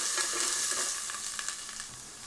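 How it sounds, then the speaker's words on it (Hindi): Carrots frying lightly in oil for Kabuli pulao, a close, steady crackling sizzle with a few stirring scrapes, fading slightly toward the end. "तो हम इस गाजर को भी हल्का सा फ्राई कर लेंगे"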